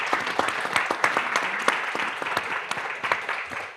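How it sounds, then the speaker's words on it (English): An audience at a screening of short documentary films applauds the fellows, giving a dense burst of many hands clapping that carries on steadily and tapers slightly at the end. "So a round of applause for the fellows"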